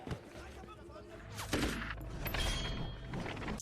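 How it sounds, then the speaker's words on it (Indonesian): Gunfire is exchanged in a film scene, with several sharp shots and rattling bursts cracking over a dense, rumbling action soundtrack. "Mereka kemudian beradu tembakan."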